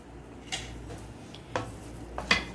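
Besan halwa stirred in a pan, a few soft spoon knocks and scrapes against the metal spaced about a second apart over a quiet background, with no voices.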